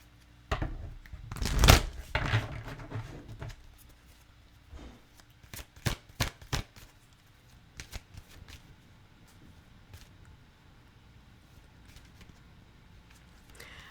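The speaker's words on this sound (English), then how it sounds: "I just realized I've been shuffling like right in front of the microphone too" Tarot cards being shuffled close to the microphone, a burst of loud riffling followed by scattered softer flicks and taps, with quiet gaps between them.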